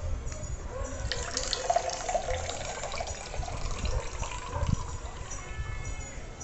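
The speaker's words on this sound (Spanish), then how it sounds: "cuando usted quiera consumir, simplemente abre la llave y automáticamente aquí para dispensar" Liquid runs from the push-button tap of a matte black Contigo Autoseal West Loop stainless steel flask, a soft steady trickle and drip into a cup, fairly faint and close, with no talk.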